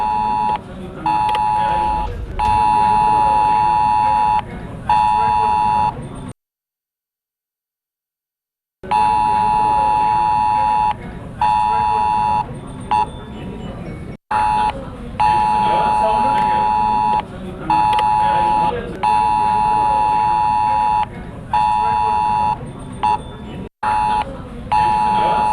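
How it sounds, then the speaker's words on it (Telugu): Emergency alert test siren sounding on mobile phones across India, a loud sustained electronic tone with pulsing beeps, repeating in long stretches broken by short silences, with voices underneath. "దేశవ్యాప్తంగా ఇలా సెల్ ఫోన్లన్నీ ఒకేసారి మోగాయి"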